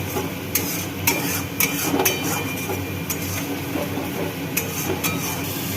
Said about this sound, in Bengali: এবার এটা মিশিয়ে নিচ্ছি ভালো করে।